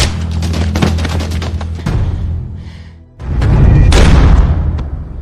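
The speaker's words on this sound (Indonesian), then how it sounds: "terdengar suara tembakan" Gunfire in an action film: loud bursts of booming shots and clattering blasts in rapid succession, broken by a short lull before another heavy volley.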